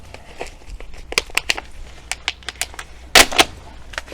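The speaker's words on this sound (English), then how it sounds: "let's cut this. I don't want to damage the plants." Sharp clicks of cutting garden shade plants in a zone 3 garden, a series of close, irregular snips with one louder rustling burst near the end, no talking.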